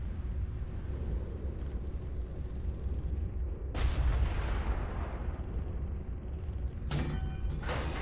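Heavy mech weapons fire in MechWarrior Living Legends, a booming blast at about four seconds followed by a long rumbling decay, then sharper impacts and crackling bursts near the end over a steady low battlefield hum.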